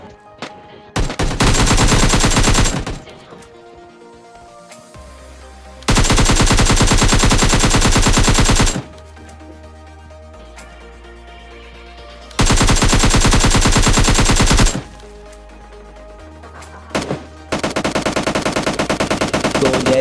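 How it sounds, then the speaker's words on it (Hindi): Bots trade gunfire in the PUBG Lite video game, with loud sustained bursts of automatic fire that alternate with short lulls, several long volleys repeating across the stretch. "राइट साइड से 2-3 बॉट लड़ने की आवाज़ आती है"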